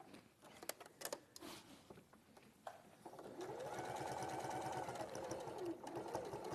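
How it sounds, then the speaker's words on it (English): A sewing machine stitches along a folded hem band, starting with a few taps and short bursts and then settling into a steady fast whirring run, quiet and close. "turn it over and stitch on the same row of stitching"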